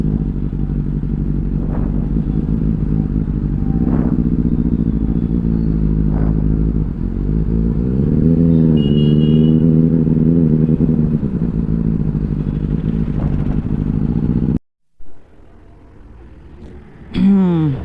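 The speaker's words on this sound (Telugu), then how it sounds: "అమ్మో ఏంది ట్రాఫిక్ జాము" Motorcycles, including a Benelli and a Himalayan 450, idle and rumble close by in a traffic jam, with engines revving and surging over steady traffic noise before the sound cuts out abruptly near the end.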